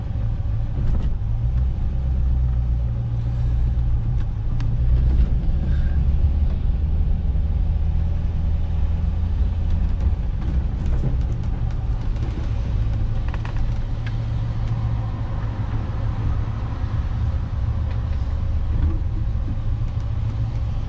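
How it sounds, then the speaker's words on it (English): Low, steady engine rumble from a very big car cruising along, a constant droning hum with road noise and no talk over it. "it's a very big car. The brakes aren't the best"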